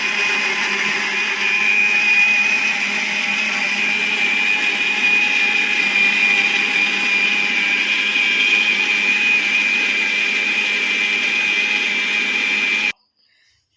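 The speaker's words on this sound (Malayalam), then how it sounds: "ഇത് നമുക്ക് നല്ലോണം ഒന്ന് അരച്ചെടുക്കാം. ഷേക്കിൻ്റെ പരുവത്തിൽ നല്ലോണം ഒന്ന് അരച്ചെടുക്കാം." A blender runs continuously at full power, grinding dragon fruit into a milkshake with cardamom powder, a loud steady whirring drone for about thirteen seconds before cutting off abruptly into silence.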